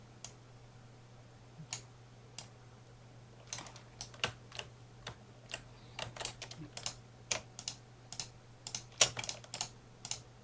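Computer keyboard keys pressed for copy and paste shortcuts, sparse single clicks at first, then quicker irregular bursts of sharp close taps over a faint steady hum, no talking.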